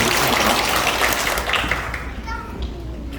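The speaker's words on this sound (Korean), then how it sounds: "마지막으로 뜨거운 박수 부탁드리겠습니다" An audience claps at a residents' information meeting on an apartment redevelopment. Dense, loud applause fills the room, then fades after about two seconds, and voices can be heard over and after it.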